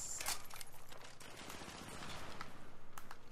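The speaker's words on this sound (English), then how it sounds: "MP5 rapid fire." Rapid bursts of MP5 submachine gun fire in a sharpshooter duel video game, quiet and fairly distant, with a sharp crack near the start and a steady rattling rhythm running through.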